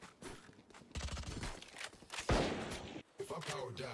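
Gunfire from a Guardian rifle in the shooter game Valorant, a burst of sharp shots and impacts amid game sounds, with players talking over it.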